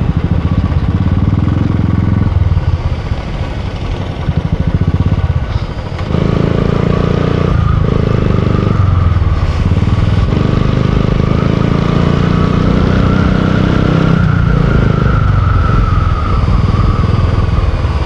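A motorcycle ridden through Namchi in South Sikkim gives a loud, steady engine drone close by for the whole ride, rising and falling slightly with the throttle and mixed with wind rush.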